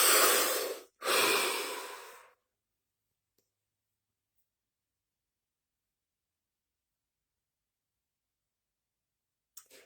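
A person takes a deep breath close to the mic: a long inhale and a long exhale, followed by near silence and a faint click at the end.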